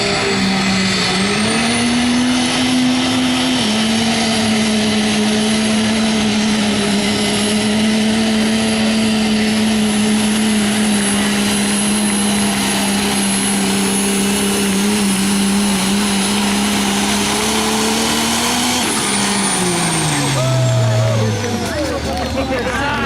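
A diesel pulling tractor with twin injector pumps roars at a tractor pull, its engine holding a loud, sustained drone for about twenty seconds before the pitch drops away as it winds down at the end.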